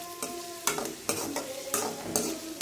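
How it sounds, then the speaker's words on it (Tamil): Potatoes and masala for a potato gravy are stirred in a frying pan, with several distinct scraping strokes over a steady low sizzle, close and moderately loud. "நல்லா பாயில் ஆகிற அளவுக்கு மிக்ஸ் பண்ணி விட்டுருங்க."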